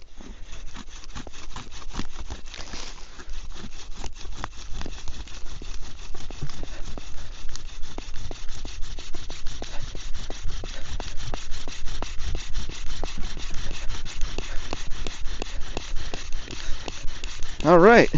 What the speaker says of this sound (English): Burning the spindle and the fireboard.